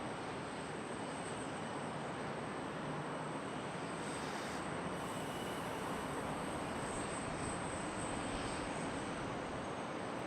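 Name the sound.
Piedmont airliner taxiing down the taxiway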